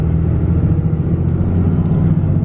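A truck with a 6.7L Cummins diesel and dual disk clutch cruising in gear, a loud steady low engine drone and rumble heard from inside the cab, constant with no talk.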